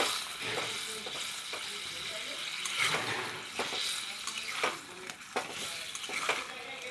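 A green mutton curry is stirred as it boils in a pot, bubbling and sizzling steadily close by with repeated scraping stir strokes and occasional clinks, no voices.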